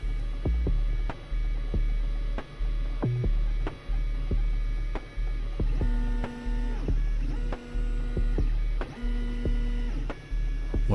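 Makerfarm i3v 3D printer, about eleven years old and fitted with a 360-degree cooling fan, printing an infill pattern: steady motor and fan hum with repeated rhythmic stepper whines and clicks as the head moves back and forth, close and alone.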